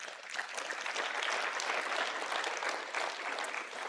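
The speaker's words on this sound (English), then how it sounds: "So give a big round of applause to our sponsors." A conference audience at a bulk freight event gives a round of applause for the sponsors, many hands clapping in a full, steady roar that holds for several seconds.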